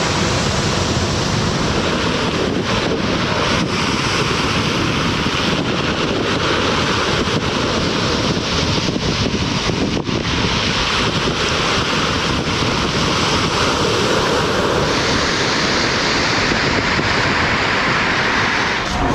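Sea waves wash onto the shore on Georgia's coast, a loud, continuous roar of surf with heavy wind buffeting the microphone and no voices.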